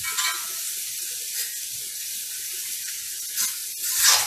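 Onions, garlic and minced ginger frying in a pan give a steady, close hissing sizzle throughout, with a few brief louder bursts as the mix is stirred and no voices.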